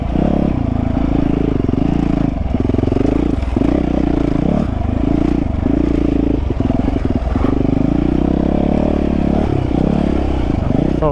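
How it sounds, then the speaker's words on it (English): Dirt bike ridden over a run of whoops, its engine droning loud and close with rising and falling pitch as the throttle pulses over each bump, plus clatter and wind buffeting. "Oh yeah, feels good going over those whoops."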